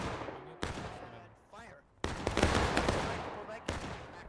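Volleys of musket fire from regiments in a large War of Rights battle, dense overlapping shots and crackling bursts, loudest in the second half, with a brief lull before a fresh wave.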